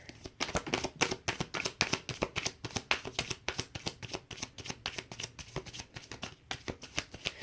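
Tarot cards being shuffled in a dense, rapid run of papery riffles and flicks, close and fairly loud, continuing steadily with no talk over it.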